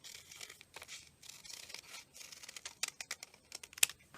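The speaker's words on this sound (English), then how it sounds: "I'm going to cut out the shape of a heart" Scissors snipping a heart shape from folded sheet music paper, quiet close papery cuts and crinkles in irregular bursts.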